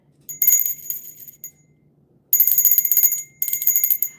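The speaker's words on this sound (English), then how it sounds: "I need to practice ringing that bell." A small bell rung by hand, bright ringing trills in three bursts separated by short pauses, loud and close, with no talking.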